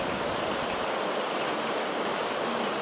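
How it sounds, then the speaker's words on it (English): Rain water pouring onto a car, a dense, continuous hiss of falling water and splashing, steady and fairly close, without a break. "And the water is just falling on the car."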